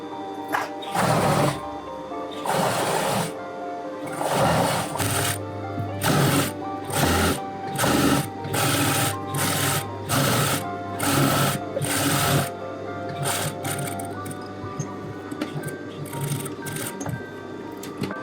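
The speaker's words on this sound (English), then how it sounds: "we will just go from the wrong side along the edge to stitch our hem" Sewing machine stitching a dress hem along the fabric edge, with bursts of running motor separated by short pauses and clicks, close and fairly loud, with no talk.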